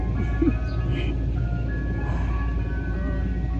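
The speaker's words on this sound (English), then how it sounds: "there's the ice cream truck" An ice cream truck plays its jingle somewhere outside, a faint tinkling melody over a low steady rumble of traffic, with no one speaking.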